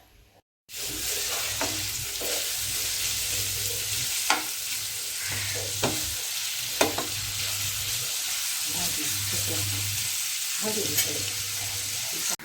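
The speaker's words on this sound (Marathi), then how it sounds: "तर आता मी हा कांदा फ्राय करून ठेवत आहे." Onion frying in a pan for chicken biryani gives a steady, close sizzle that runs without a break, with occasional clinks and scrapes of stirring.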